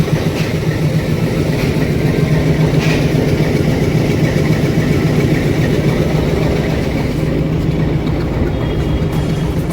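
A YDM 4 diesel locomotive of the Ooty toy train idles steadily, a loud, low, continuous engine rumble with a constant throb and no voices over it.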